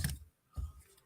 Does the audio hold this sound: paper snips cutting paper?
yes